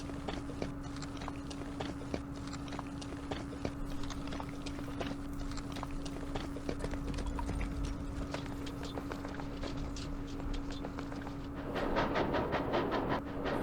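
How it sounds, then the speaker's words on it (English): A train rolls along in the wargame Campaign Series West Front, set at Aachen on the West Wall, giving a steady rhythmic clatter of wheels over rail joints with a constant hum, growing denser near the end, with no talk. "Yeah, that sounds like a train."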